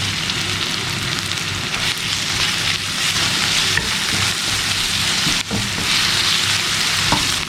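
Shallots sizzling and frying in hot oil in a pan as ginger garlic paste is stirred in, a dense steady crackle that runs throughout with faint stirring clatter and no talk.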